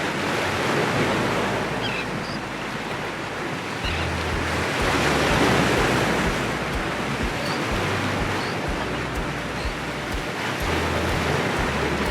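Ocean waves breaking on the rugged coast along the Otter Trail, a steady roaring surf with gusty wind buffeting the microphone, continuous and fairly loud with no voices.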